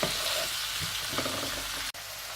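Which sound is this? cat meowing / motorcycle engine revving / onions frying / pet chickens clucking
onions frying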